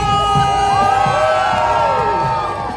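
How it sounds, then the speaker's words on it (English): A loud street crowd on Fifth Avenue in New York during the Christmas holiday season cheers and whoops, with high shouts and sliding yells rising over a dense, constant roar. "If you like what you see, make some noise!"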